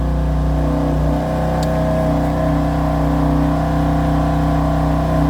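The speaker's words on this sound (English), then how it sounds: "So that's what the exhaust sounds like." A 2015 BMW M4 Convertible's exhaust revving, a loud, close, sustained engine drone with one dip and rise in pitch early on, then holding steady.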